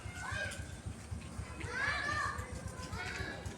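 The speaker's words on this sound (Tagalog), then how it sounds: "Ayan pa po yung ibang mga bata, maingay pa, gawa ng umuwi pa lang po." Noisy children play nearby, their high voices shouting and chattering without pause across the whole stretch, with a louder burst of cries in the middle.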